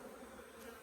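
Honey bees from a hive colony being readied for winter drone in a steady, close buzz that holds without break for under a second, with no voices.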